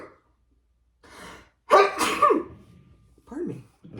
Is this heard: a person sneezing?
yes